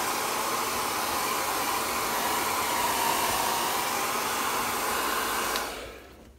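Hair dryer blowing on metallic paint laid on stone paper, a steady loud broadband whoosh held near the microphone for about five and a half seconds before it cuts off and fades.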